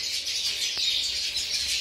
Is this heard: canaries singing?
yes